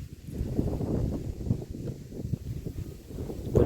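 Dry wind gusting against a microphone outdoors, uneven low rumbling buffets that swell and fade throughout, fairly loud and close, no voices.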